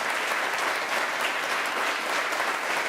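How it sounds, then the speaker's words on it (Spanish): A church congregation gives a loud, sustained round of applause, dense steady clapping filling the whole stretch with no pauses. "A ellos 4 también un fuerte aplauso, hermanos."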